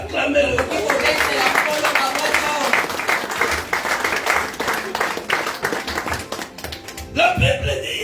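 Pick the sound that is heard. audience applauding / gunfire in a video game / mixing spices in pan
audience applauding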